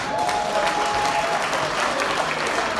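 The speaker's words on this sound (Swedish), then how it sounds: "Jag tycker vi ger dem en stor applåd." An audience claps continuously in a dense, even wash of applause at moderate distance, steady throughout with no pauses and no talking over it.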